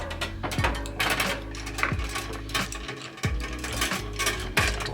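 A pipe cutter is turned around a brake line tube, giving repeated metallic clicks and ratcheting scrapes with bright ringing taps every second or so, close and steady.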